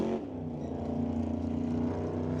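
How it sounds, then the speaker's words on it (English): A Super Gas drag race car makes a single pass up the right side of an NHRA Northwest National Open Series track, a sustained loud engine roar that builds and holds at high revs. "So Warren Jacobson making a single pass up the right-hand side of the racetrack"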